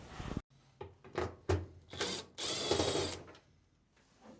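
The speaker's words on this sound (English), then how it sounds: "start by removing the screw at the bottom of the lint assembly" A screw is backed out at the bottom of the lint filter assembly on a Fisher & Paykel dryer, giving close, quiet ratcheting clicks and scraping metal-on-plastic sounds in short irregular bursts.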